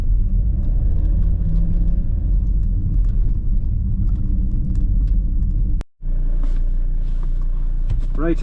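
A car drives out along a pothole-riddled rural road, its low rumbling engine and road noise steady and close, with a brief dropout around six seconds before the rumble resumes.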